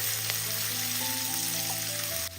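Chopped ginger with garlic and onion sizzles steadily in a pan as it is stirred, a loud continuous frying hiss with faint scraping, cutting off abruptly near the end.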